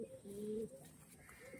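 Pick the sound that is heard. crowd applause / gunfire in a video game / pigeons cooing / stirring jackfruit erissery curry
pigeons cooing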